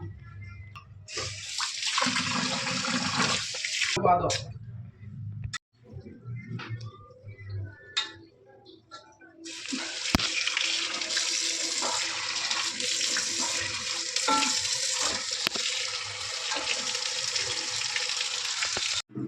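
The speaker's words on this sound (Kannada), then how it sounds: "ನೋಡಿ ವಾಶ್ ಮಾಡಿದ್ದೀನಿ ಮುಖ ಫುಲ್ಲು" Water gushes from a sink tap in two long bursts with a short gap of splashing and quieter handling between, as a face is washed over the basin.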